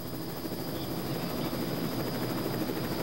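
A helicopter flies overhead during an RCMP truck chase, a steady loud rotor and engine roar that fills the scene with no break.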